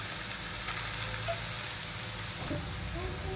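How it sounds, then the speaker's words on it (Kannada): Grated pumpkin roasting in ghee in a pan for a sweet Diwali dish, giving a soft, even sizzle throughout with a few faint scrapes of stirring. "ನೋಡಿ, ಈ ಥರ ತುಪ್ಪದಲ್ಲಿ ರೋಸ್ಟ್ ಮಾಡ್ಕೊಳ್ಳೋಣ"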